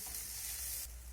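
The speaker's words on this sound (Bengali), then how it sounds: "সব কিছু আবারও নেড়েচেড়ে মিশিয়ে নিতে হবে।" Flattened rice pulao (chira) being stirred and mixed in a pan, giving a steady close sizzle with soft scraping through a short moment, no voices.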